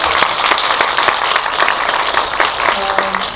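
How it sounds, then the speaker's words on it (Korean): Audience in a cinema auditorium at a special guest-talk screening of a Korean film applauds steadily, a dense wash of many hands clapping at close range with no pauses, filling the space alone. "박수 한번 부탁드리겠습니다"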